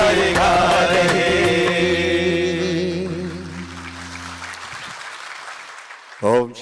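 Audience applause at a Brahma Kumaris Shivjayanti 2024 gathering at Mansarovar, loud clapping under sustained music and singing that fades out, followed by a brief voice near the end.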